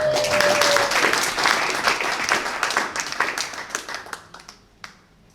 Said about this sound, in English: Let's give another round of applause for Tyrone